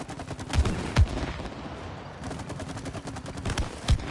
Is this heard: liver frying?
no